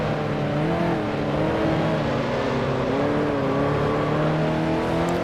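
Vintage 1955 Formula One race car engines at Monaco in the Grand Prix Legends game: several engines howl and whine together at high revs, pitches rising and falling as cars shift and jostle close by, loud and continuous.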